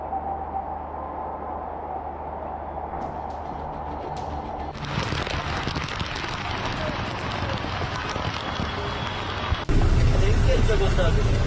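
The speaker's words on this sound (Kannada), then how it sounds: "ಮಣಿಪಾಲಲ್ಲೂ ಸಹ ಭಾರಿ ಮಳೆ ಸುರಿತಾ ಇದ್ದು" Heavy monsoon rain pours down on city streets in Udupi and Manipal, a dense, steady broadband hiss that swells louder partway through and stays loud and continuous to the end.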